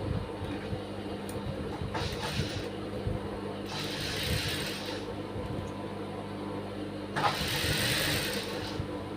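A domestic sewing machine runs a straight line of stitches along the edge of a piece of cloth, making a steady mechanical whir that swells in short bursts over a constant background hum.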